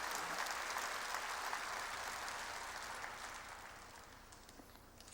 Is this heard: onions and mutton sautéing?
no